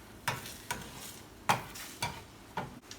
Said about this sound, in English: you stir them until they look pretty dry